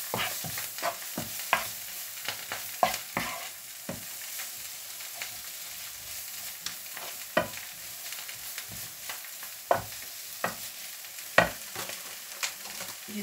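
A basmati rice and fish dish stirred in a pan with herbs, producing a soft sizzle under repeated sharp scrapes and taps of a utensil, close and moderately quiet, no speech.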